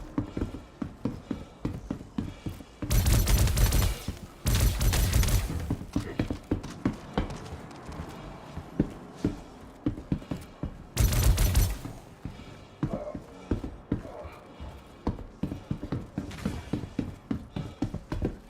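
Gunfire in Star Citizen comes as bursts of sharp shots, with two dense loud volleys early and another midway, amid rapid clicking, metallic thumps and footsteps.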